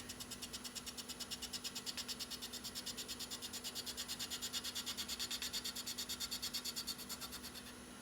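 A cheap candle is sanded smooth on a lathe with light passes as it turns. A steady, fast rasping rub repeats in quick even pulses for the whole stretch, close and fairly quiet, with a low motor hum beneath.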